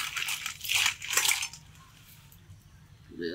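Sundarban crabs getting a final rinse in fresh water, with close sloshing, splashing and clattering shell knocks for the first second and a half, fading to quieter trickles.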